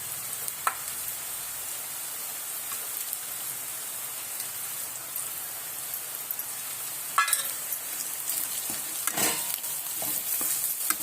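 Chicken and onion sauté with salt and spices in a pan for a dry chicken sukka: a steady, close sizzle and fry runs throughout, with occasional scrapes of stirring and no talking.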